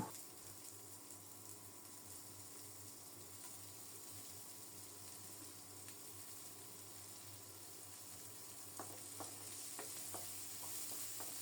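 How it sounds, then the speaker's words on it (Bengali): Steady soft sizzling of chopped garlic, onion and green chilli frying in oil, with faint stirring clicks and scrapes near the end. "নেড়ে চেড়ে একটু লালচে করে ভেজে নেব"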